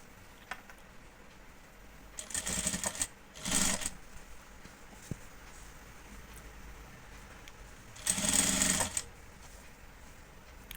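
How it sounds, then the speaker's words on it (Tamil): Domestic sewing machine stitching a water-drop neck design on a blouse, heard in a few short motor bursts near the mic, the longest late in the clip, separated by quiet pauses with no talking. "அந்த டிசைன் அப்படியே பேக்கில் திருப்பி அப்படியே ஸ்டிச் பண்ணிக்கலாம்."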